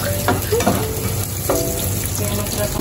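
Food fries steadily in a pan while a ladle stirs it, sizzling throughout with several scraping, clinking strokes of the ladle scattered across the sizzle.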